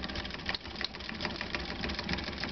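An electromagnetically driven rotary motor running at idle on a 12-volt supply, a steady fast mechanical whirring and ticking with a constant level and no talking.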